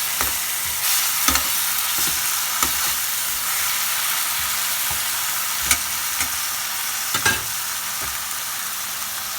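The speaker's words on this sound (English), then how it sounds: "Now the onion is sauteed very nicely. Now we will add tomato puree." Tomato puree stirred into sautéed onions in a pan for a mushroom coconut cream curry, a steady sizzle under repeated soft spoon knocks and scrapes, close and alone.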